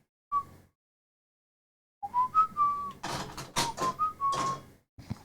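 Someone whistles a short Mega Man melody: one brief note, a pause, then a run of bright whistled notes mixed with breathy bursts and clatter.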